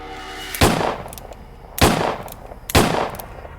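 Three sharp gunshots crack out at uneven intervals, each loud and close with a brief ringing decay, set in a true-crime dramatization of a driveway shooting in a car.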